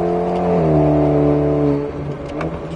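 An Alpine A110S sports car engine revs up loudly nearby, its pitch climbing smoothly, then the roar drops away abruptly.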